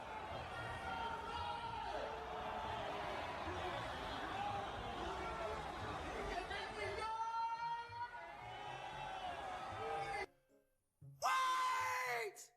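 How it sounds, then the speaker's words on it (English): A crowd booing at a Rakai live stream event, a sustained mass of jeering voices under nearby talk, followed by a brief silence and a louder burst of crowd noise at the end. "Are they saying boo the whole time?"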